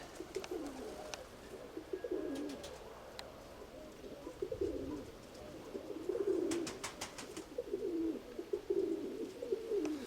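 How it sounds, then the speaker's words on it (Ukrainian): Pigeons coo in low, repeated phrases at a moderate distance, over a quiet outdoor background with a few faint chirps. "Голуби в небі."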